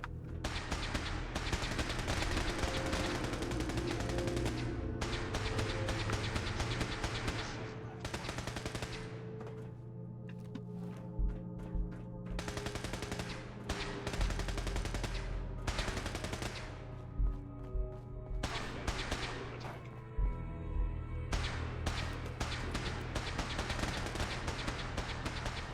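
Heavy video-game gunfire, long stretches of rapid machine-gun bursts and single shots, loud and close, with short pauses and a steady game hum underneath.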